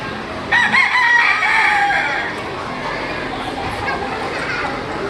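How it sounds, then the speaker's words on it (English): Chickens and a rooster in a county fair poultry barn crow and cluck loudly and close, the crowing calls repeating over a steady barn din of birds and distant crowd noise. "Ah, chicken."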